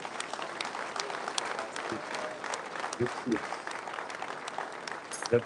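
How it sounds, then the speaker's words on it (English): An audience at a political aspirants' dinner applauds steadily, with a dense patter of clapping throughout and a few louder isolated claps standing out near the end. "I want you all to specially clap and appreciate them and their support"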